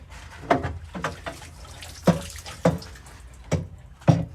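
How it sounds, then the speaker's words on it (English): Paint stripper solution bubbling in a soak tank with KX 250 dirt bike chassis parts, giving a series of wet pops and gurgles, around seven distinct bursts spaced irregularly over a low liquid background. "See it bubbling?"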